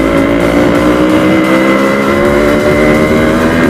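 A Yamaha RX 100 motorcycle with a longer wheelbase, alloy wheels and a first performance upgrade is ridden with its engine held at a loud, steady, high rev, droning continuously and close throughout.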